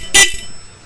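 A Honda Steed VLX400 motorcycle's horn gives one short, loud beep close by, followed by a faint click and quiet.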